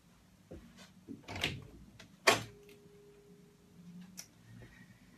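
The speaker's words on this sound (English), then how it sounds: "I'm just going to go and open the door" A door is opened indoors with a few handling clicks, a sharp latch or creak, and knocks spread over several seconds, fairly quiet and close, with no talking.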